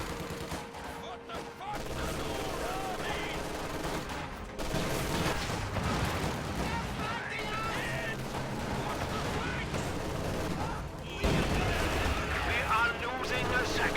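Anti-infantry strafing run in a World War II real-time strategy game, sustained rattling gunfire and distant artillery booms rumbling under a caster's steady commentary.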